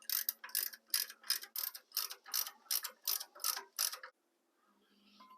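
Lock nuts on a Wilwood front disc brake assembly being tightened with a ratchet, about a dozen evenly spaced sharp clicking strokes close up, then stopping into near silence.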